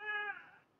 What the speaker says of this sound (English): By the way, my cat is also joining me.